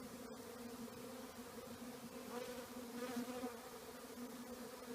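Honey bees buzz around brood frames as a colony is moved from a nuc box into a deep hive body, a steady, moderately faint droning hum that swells slightly midway, with no voices.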